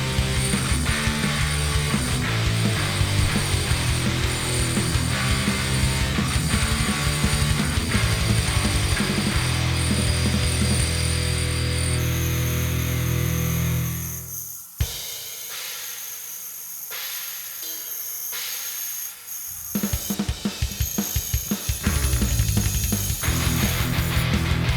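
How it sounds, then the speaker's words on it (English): A bandsaw cuts the shape of a wooden guitar neck, a loud steady whine and rasp that cuts out midway, leaving a quieter gap before the saw's din returns. "And then it's over to the bandsaw again."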